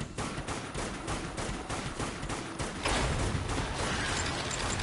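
An auto turret in Dead Nation fires rapid, evenly spaced bursts that rattle on under a dense wash of game noise and grow slightly louder toward the end.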